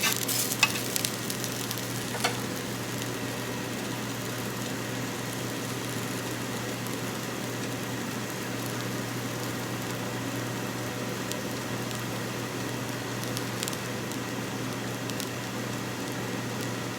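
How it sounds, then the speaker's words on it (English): Steady, dense sizzling and crackling of potato skins frying in hot oil, continuous and close, with a few sharper pops near the start and no talking. "Hear the sizzling, crackling."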